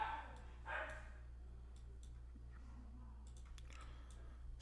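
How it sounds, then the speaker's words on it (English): Dogs barking indoors, a couple of short excited bursts near the start and later, fairly faint under a steady low hum with no talking. "if you can hear the dogs"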